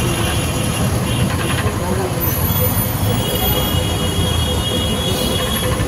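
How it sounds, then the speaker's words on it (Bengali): A tram rumbles past on rails in Kolkata, steady and loud, with metallic wheel squeal and clatter continuing throughout. "এই দেখো ট্রাম যাচ্ছে"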